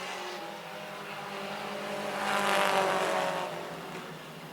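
Four-cylinder pro class race cars, also known as Allison Legacy cars, pass on a track as a distant engine drone that swells to a peak midway and then fades, with no commentary.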